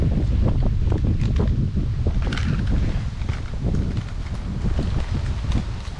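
Steady wind blowing hard across the microphone, a constant rumbling roar with faint clattering underneath.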